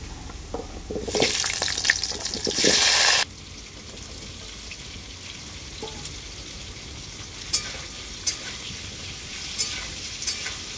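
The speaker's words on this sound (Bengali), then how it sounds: "আলুগুলোকে আমি খুব ভালো করে ভেজে নেব।" Cut potatoes hit hot oil seasoned with black cumin and two dried red chillies, giving a loud, harsh sizzle for about two seconds before it settles into a softer, steady crackle with a few faint clinks.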